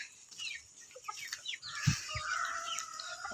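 A rooster clucks and calls in short bursts, fairly close but quiet, with a few other birds chirping around it.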